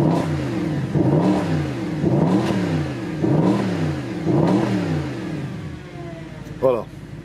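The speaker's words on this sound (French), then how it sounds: "le son d'un vrai moteur atmosphérique AMG, c'est ça." A naturally aspirated, non-turbo Mercedes-AMG engine revs hard four times in a row, each rise climbing and falling back, loud and close, followed by a short final blip.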